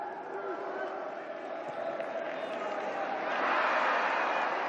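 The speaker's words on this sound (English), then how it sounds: "Anguished gasp from the crowd there as Sasaki couldn't make anything out of that" A football stadium crowd at a Vissel Kobe match reacts to a missed chance, a broad murmur that swells into a louder collective gasp near the end, with a commentator talking over it.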